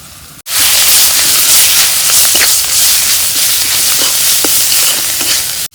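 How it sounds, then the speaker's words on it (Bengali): Spices with green chili, salt, turmeric and dried chili powder frying loudly in a pan for a radish and rohu fish curry, a constant close sizzle with occasional scraping stirs, no talk. "মশলা ভাজা হয়েছে।"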